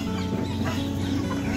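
Chickens on a farm, about sixty hens in a shed, cluck in a dense, continuous close-up chorus with no talk.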